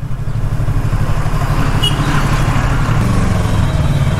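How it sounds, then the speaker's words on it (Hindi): Morning traffic jam on a road near Bangalore, heard from a Yamaha R3 motorcycle: a close, steady engine rumble runs throughout, with a brief high tone like a distant horn partway through. "और सुबह सुबह ट्रैफिक जाम।"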